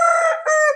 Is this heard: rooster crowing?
yes